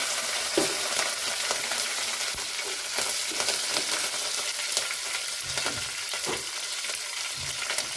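Mustard and cumin seeds crackle in hot oil, a continuous close sizzle with scattered pops and bursts throughout, and nobody speaks.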